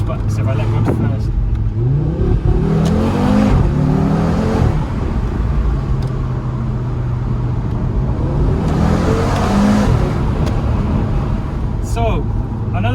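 A 2020 Audi RS3 engine revs and pulls hard in a rolling launch. The engine note climbs in pitch twice, loud and close, over steady road and cabin roar.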